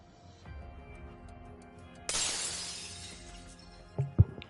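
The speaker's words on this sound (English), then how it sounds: "Who's breaking glass up here, bro?" A loud glass shatter in the video game Wuthering Waves bursts in suddenly and then rings down, followed a second or two later by a couple of sharper knocks, over faint background game music.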